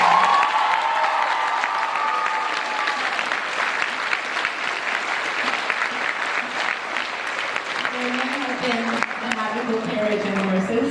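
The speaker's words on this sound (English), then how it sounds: "So, a big round of applause." Loud audience applause and cheering fill a school theatre after a Cinderella production, a dense, sustained roar with voices calling out over it and talk emerging near the end.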